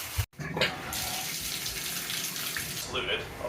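Water runs steadily from a tap into a bathtub plugged with a plastic grocery bag as a drain stopper, a continuous close hiss and splash with a brief dropout near the start.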